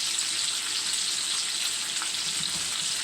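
Bacon fries in a hot skillet with a loud, dense, steady crackling sizzle that runs unbroken from start to finish.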